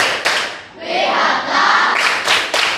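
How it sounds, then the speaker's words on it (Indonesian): A sixth-grade primary school class in an Indonesian language lesson claps and cheers together in a loud, rhythmic group applause with bursts of voices. "Silakan kasih tepuk hebat kepada teman kita ya."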